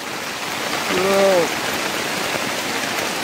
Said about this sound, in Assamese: এতিয়া পূৰা বৰষুণ আহিছে